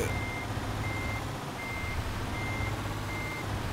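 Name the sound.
truck reversing beeps in the video game Euro Truck Simulator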